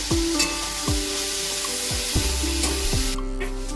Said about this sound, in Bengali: দিয়ে ভালো করে ভাজা ভাজা করে দেবো